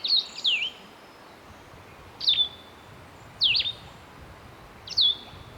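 Four short, high-pitched bird calls ring out one after another at irregular intervals, clear against a quiet outdoor background.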